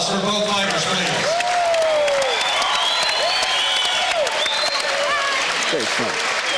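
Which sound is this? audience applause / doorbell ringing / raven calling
audience applause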